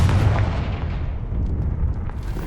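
A Confringo blasting spell goes off in Hogwarts Legacy, one heavy booming explosion that hits hard at the start and then rolls away in a long fading rumble.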